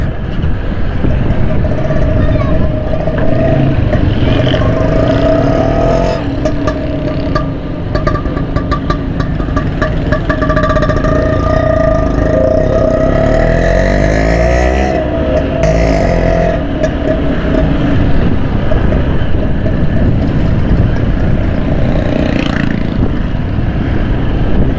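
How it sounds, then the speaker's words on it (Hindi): Dense road traffic crawling in a jam in Karachi near the Pakistan Quarters bridge: a continuous loud mix of car and motorcycle engines idling and revving close by, with occasional horn-like tones rising over the steady rumble. "यहाँ पर ट्रैफिक जाम लग रहा है मेरे को।"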